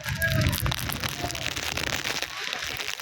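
Steady monsoon rain patters and hisses throughout on Girnar mountain, with some crackling and muffled background voices.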